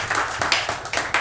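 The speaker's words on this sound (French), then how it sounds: "Vous pouvez l'applaudir." A small audience at a jazz trio concert claps for the composer, a short, close burst of scattered hand claps in an uneven rhythm.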